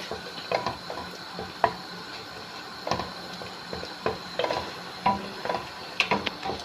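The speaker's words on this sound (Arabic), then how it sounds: "اقلب كده كويس قوي قوي، وهحط لها شويه سكر عشان الطماطم" A utensil stirs tomatoes with sugar in a pan, giving light scraping and clinking taps in an irregular rhythm, close and fairly quiet, with a soft background hiss.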